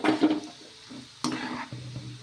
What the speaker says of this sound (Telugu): ఈ విధంగా అటుకులను కూడా ఫ్రై చేసేసుకోవాలి.